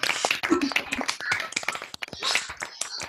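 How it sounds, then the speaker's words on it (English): Graduates at a 2021 School of Chemistry graduation ceremony clap for each other over a video call, a scattered, uneven patter of individual claps from several unmuted microphones, fairly quiet and thin rather than a unified crowd sound. "Rawasia Niaz, Powell Nowak, Sarah Rashid, I now warmly welcome you to unmute yourselves and cheer and clap for each other."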